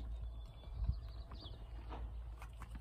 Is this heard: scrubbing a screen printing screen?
no